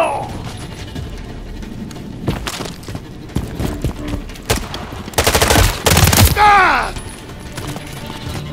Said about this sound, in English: There's enemy fire!